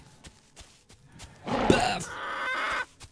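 A chicken clucks in the dinosaur survival game The Isle, a loud burst of squawking and flapping lasting over a second, with quieter game sounds and brief clicks around it.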